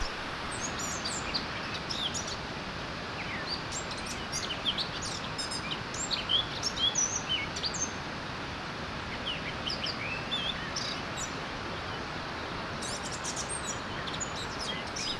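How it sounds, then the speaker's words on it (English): Birds chirping and tweeting in a park with lakes, light scattered calls over a steady outdoor wash, fairly distant, with occasional clusters of brighter chirps and faint duck-like sounds. "a joyful bird singing completes the beautiful landscape"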